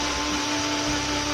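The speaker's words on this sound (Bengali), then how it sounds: "সমস্ত উপকরণগুলো ভালোভাবে গ্রাইন্ডারে 2 থেকে 3 মিনিটের জন্য ভালোভাবে গ্রাইন্ড করে নেব" An electric grinder blends tender coconut ice cream ingredients into a fine paste, a steady, loud motor whir running continuously and alone.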